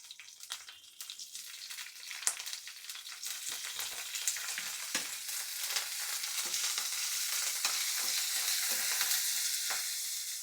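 Green chilies and a little cumin frying in a pan for green chutney, giving a steady bright sizzle with occasional stirring scrapes that grows denser and louder over time, with no voices.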